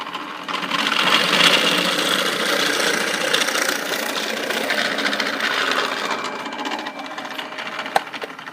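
A drill bores blind holes into a wooden workpiece held in a jig, making a steady, fairly loud mechanical whirring hum that runs almost unbroken, ending with a sharp click.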